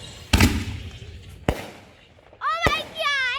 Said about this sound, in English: Mom, watch out, there's big fireworks!